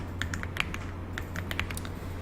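Several quick keystrokes tapped on a computer keyboard, a brisk run of close clicks and clacks over a steady low hum, with no talking.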